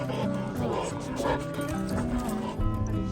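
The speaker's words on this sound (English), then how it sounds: "So these are morning puppies." Puppies yipping, barking and whimpering close by in quick, overlapping bursts amid some background noise.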